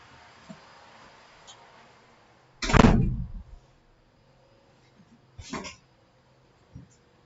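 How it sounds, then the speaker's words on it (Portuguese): A door being shut indoors gives one solid thump, followed a few seconds later by a softer second knock and a faint tap, with quiet room tone between and no talking. "Deixa eu fechar a porta."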